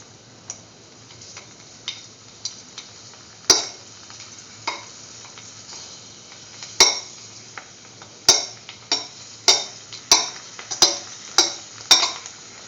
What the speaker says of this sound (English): let them fry in the ghee until they swell up.